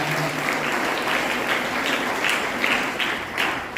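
A church congregation at Holy Mass claps steadily to congratulate the children, a dense, even roar of applause that holds at the same level throughout with no pauses.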